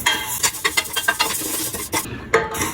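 Rice and dal are stirred in a hot pan for ven pongal, a quick rhythmic run of scraping strokes of a spoon against metal over a light sizzle, ending with a couple of louder clanks.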